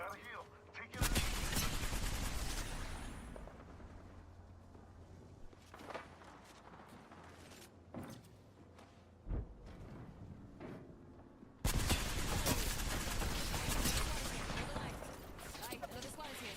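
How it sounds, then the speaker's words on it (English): Bursts of gunfire from enemy players in a shooter video game, loud sustained volleys at the start and again near the end with scattered shots between, with players talking over the action. "Enemies are shooting at me."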